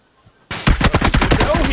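An AUG rifle in a video game fires a rapid automatic burst of roughly ten close, loud cracking shots in quick rhythm after a short quiet lead-in.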